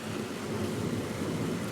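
A summer thunderstorm beyond an open window: continuous rain hiss under a deep, rolling thunder rumble, moderately distant and steady, with no voices.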